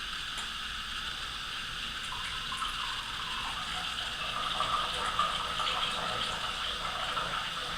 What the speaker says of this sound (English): And once the teat is popped, out will come clean, sterile, drinkable water.